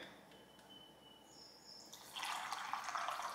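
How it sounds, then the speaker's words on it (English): Water pours into a container of almonds to soak them, starting as a few faint drips and splashes, then turning into a steady, louder stream that runs to the end. "let's soak them in some water"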